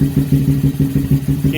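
A Honda Grom motorcycle, freshly flashed with a new fuel map, idles close by with a loud, steady, rhythmic low thumping that keeps an even beat throughout.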